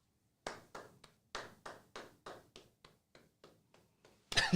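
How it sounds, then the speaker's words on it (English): Slow, deliberate hand clapping: about a dozen single claps spaced roughly evenly, fairly close and clear in a quiet room, ending in a burst of louder noise. "Slow clap"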